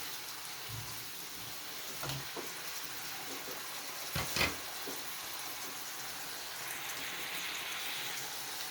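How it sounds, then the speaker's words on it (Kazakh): Salad ingredients fry in a pan over an open fire, a soft steady sizzle like light rain, with a few brief louder clatters and stirring sounds partway through. "Ал енді оттың өзіне бір қуырып алайық,"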